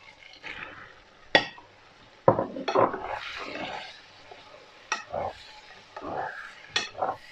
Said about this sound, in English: Okay, we've been stirring this for a while now.